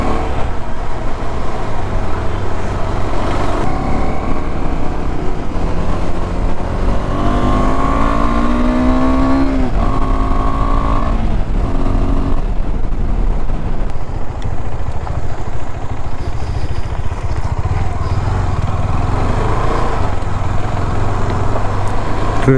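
KTM adventure motorcycles ride along a mountain road with a loud, continuous engine roar, and one bike revs with a rising and falling pitch partway through.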